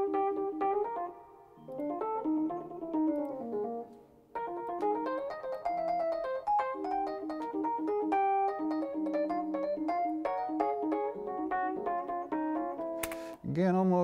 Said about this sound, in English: original Rhodes, so a real one, no sample